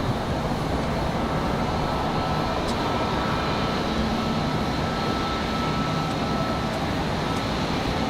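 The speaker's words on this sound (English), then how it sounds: "I hear our MD-11 already." An MD-11 airliner approaching Raleigh-Durham International Airport makes a steady, broad jet roar that holds at a constant level for the whole stretch, with no voices.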